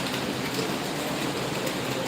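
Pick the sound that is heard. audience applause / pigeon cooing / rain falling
rain falling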